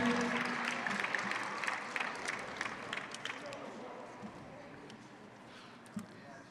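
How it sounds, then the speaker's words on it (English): A student leadership summit crowd applauds mascots and spirit squad members, clapping loud at first and then thinning and fading over several seconds, with voices mixed in. "Give yourselves and the mascots a big round of applause."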